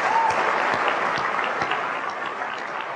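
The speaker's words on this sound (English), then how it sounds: "I would just like to give them a round of applause" Audience at a Macworld keynote applauding, a dense wash of clapping from a large crowd that stays fairly even and slightly distant for the whole stretch.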